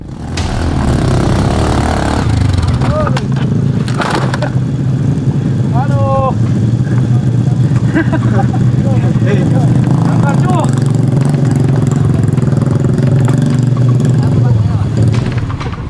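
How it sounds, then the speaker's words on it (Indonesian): A moped converted into a trail motorcycle churns steadily over a rocky, muddy mountain track, its engine drone loud and continuous throughout while a voice speaks over it. "Motor-motor bebek yang disulap menjadi motor trail ini membontang-banting kami melewati jalur"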